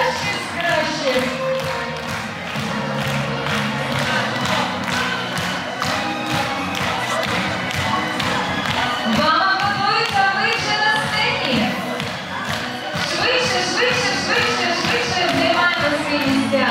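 Audience at a Ukrainian dance group competition claps and cheers loudly and steadily over loud stage music, with shouts rising from the crowd throughout.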